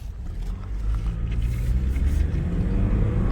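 A 2016 Lexus IS200 engine in sport mode builds under acceleration, a steady, loud low rumble with road and wind noise close by throughout, and no talk over it.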